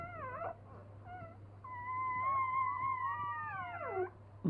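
Newborn puppies cry and whine loudly in high, wavering yelps and drawn-out howl-like wails, several overlapping calls close up over a steady low hum.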